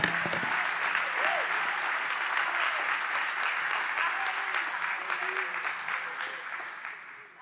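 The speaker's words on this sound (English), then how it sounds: "Would you give him a hand clap in the house?" Church congregation applauding with hand claps, a full, even round of clapping from many people that holds steady and then gradually tapers off at the end.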